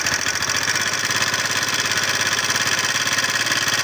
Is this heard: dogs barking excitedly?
no